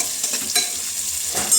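Chopped onion frying in a pan, a steady close sizzle broken by spatula stirs scraping the pan, louder near the start and end, with no talk.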